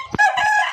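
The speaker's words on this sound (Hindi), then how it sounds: "ये जो मैं नया मुर्गा लाया हूँ ना इसको" A single short crow from a young rooster, about seven or eight months old and suffering from a phlegmy illness, close and loud but clipped and brief.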